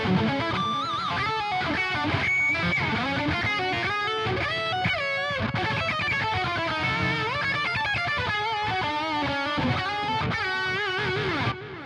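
A distorted lead electric guitar runs through a JST ToneForge Jeff Loomis metal amp plugin preset and plays a continuous shredding line of fast, sustained notes, loud and dense for the whole stretch with no talking.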